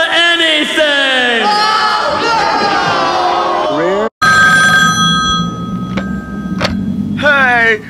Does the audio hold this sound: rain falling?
no